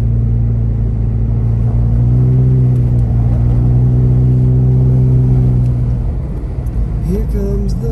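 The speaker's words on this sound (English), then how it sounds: "Here comes the car." A car approaches at night on a snowy mountain highway between Big Bear and Lake Arrowhead, its engine a low, steady rumble under constant interior road noise that swells slightly before fading near the end.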